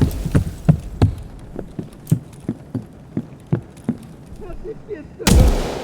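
Gunfire and a grenade explosion in a video game: a steady series of sharp, evenly spaced shots, then a loud, broad blast near the end, with faint voices underneath.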